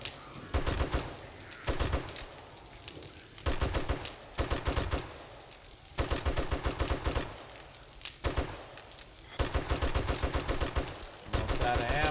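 Gunfire in the video game 7 Days to Die, with rapid automatic bursts repeating in several separate volleys with short pauses between, loud and close, no talking.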